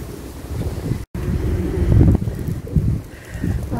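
Wind blows steadily outdoors near a bird feeder in early spring, a low rushing rumble buffeting the microphone throughout with a brief dropout, and no one speaking.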